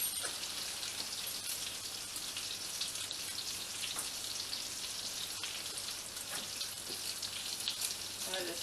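Onions fry in a pan with browned Polish kielbasa for fried cabbage, making a soft, steady hiss and sizzle with light ticking pops throughout.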